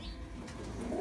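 A pigeon gives a single brief, low coo close by over a steady background rumble.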